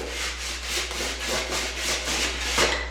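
A rasp shaves the freshly cut edge of drywall in about ten quick, rhythmic rough scraping strokes, close and fairly loud over a low steady hum.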